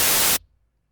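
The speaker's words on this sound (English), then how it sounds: "starting with the white noise" A burst of bright, full-band white noise from the SynthMaster 3 software synthesizer cuts off abruptly after about a third of a second, leaving near silence.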